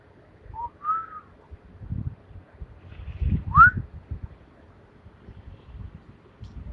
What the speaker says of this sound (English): Let's just get the whistling.